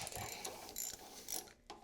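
A ratchet wrench with an 11 mm socket removing a bolt from an N55 engine during a rebuild: quick, quiet clicking strokes in short bursts, close by.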